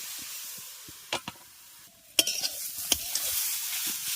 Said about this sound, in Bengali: দু থেকে তিন মিনিট গাজরটাকে ভালো করে ভেজে নিয়েছি